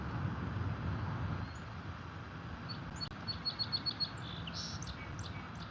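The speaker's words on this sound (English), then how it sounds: "like I got birds chirping beside me" Birds chirp beside a carp fishing spot in Ontario, a quick series of short high tweets standing out over steady low outdoor rumble, moderately near but faint.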